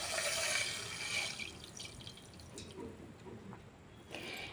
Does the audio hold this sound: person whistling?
no